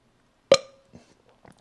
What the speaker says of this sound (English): I feel like I have to burp a ton. And not good burps, like the real shallow ones.